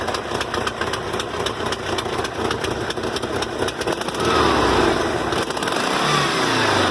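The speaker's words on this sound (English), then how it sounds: "it's a bit of a rough idle right now" A Volkswagen Westfalia Vanagon engine idles roughly and close up, with a steady loud chugging pulse that swells slightly partway through.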